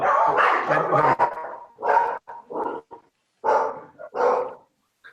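Several dogs bark at someone walking past an open front door beside a greenway trail, with loud, close bursts of barking in uneven clusters and short pauses between them.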